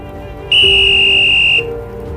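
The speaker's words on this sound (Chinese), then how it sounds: "主裁判吹响了中场休息的哨声" A referee's whistle ends the first half of a football match between Norway and Spain, a single loud, steady shrill blast lasting about a second over a low hum of background noise.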